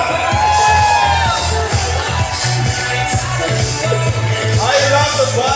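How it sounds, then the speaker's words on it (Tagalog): Loud, sustained cheering and whooping from a packed wedding reception crowd at Albert Hall, shouts and clapping blending into a dense roar close at hand, with some voices calling out above it. "malakas na hiyawan na may kasabang"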